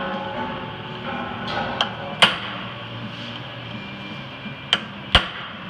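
A hammer strikes a center punch into metal in a machine shop, four sharp isolated taps spaced irregularly over a steady low hum.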